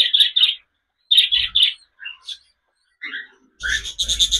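Pet birds, baby pigeons and cockatiels, chirp close by in quick bursts of bright tweets separated by short pauses, ending in a denser flurry of calls.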